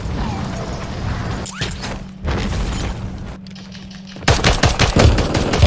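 Rapid automatic gunfire and booming shots fill a Warzone match, crackling steadily and then intensifying into a loud, dense, close burst near the end.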